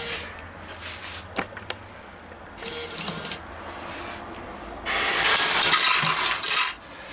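An American Changer coin changer whirs and clicks mechanically, with sharp metallic clinks as nickels drop out, then a louder motorized grinding burst near the end.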